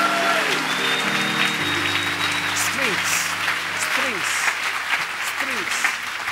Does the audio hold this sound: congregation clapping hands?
yes